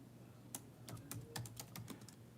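A zip code is typed on a computer keyboard, a quick, faint run of about ten crisp key clicks in an uneven rhythm, close up and with no speech.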